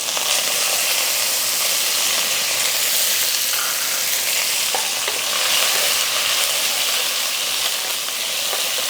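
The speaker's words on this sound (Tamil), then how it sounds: "கொஞ்சம் கருவேப்பிலையை ஈரத்தோடு போட்டேன், அதெல்லாம் கொஞ்சம் வெளியே தெரிக்குது" Wet curry leaves fry in hot oil for tomato rice, giving a loud, steady sizzle with crackling spits and pops throughout, without any talk.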